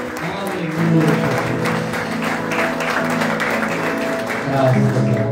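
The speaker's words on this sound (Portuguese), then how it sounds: "Aplauda ao Senhor." A church congregation applauds the Lord during a worship service, dense clapping blended with singing or voices and a sustained musical tone underneath, loud and continuous.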